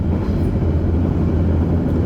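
A Jaka Tingkir economy-class passenger train travels along the rails, heard from inside as a loud, continuous low rumble and roar with no break.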